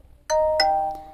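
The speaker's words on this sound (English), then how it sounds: "And this hello one is the notifications default sound." Motorola G06 Power phone playing its default "hello" notification tone, a bright two-note chime with ringing bell-like overtones followed by a short soft blip, clear and close with no talking.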